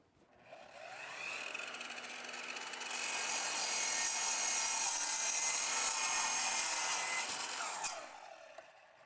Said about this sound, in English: It's a compound miter chop saw. It's similar to the woodworking compound miter saw, but this has the steel cutting technology.